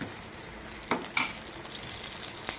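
Badi pieces frying in oil in a pan for cabbage curry, a steady close sizzle with a few scraping stirs of a spoon against the metal.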